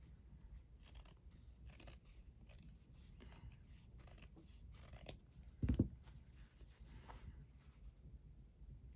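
Scissors trimming a loose thread while a fabric pouch is being sewn, quiet close snips and rustling repeated at irregular intervals, with a short louder clunk of handling midway.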